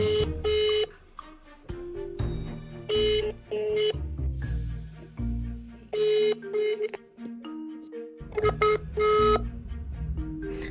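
A flip phone dials a call with loud, rapid sequences of short electronic keypad tones at shifting pitches, grouped in bursts with brief gaps.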